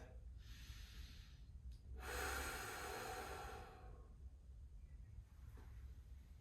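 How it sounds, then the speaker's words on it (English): A deep bracing breath during a side-lying hip rotation exercise: a short sniff, then a long, loud inhale-exhale rush, followed by quieter breathing close to the mic. "So again, bracing breath."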